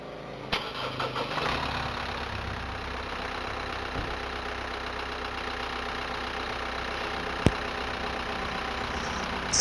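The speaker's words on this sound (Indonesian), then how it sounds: "Sekarang mesin sudah dihidupkan." A Hyundai Santa Fe diesel engine running at idle, a steady close drone with even texture throughout, broken only by a couple of sharp clicks or taps.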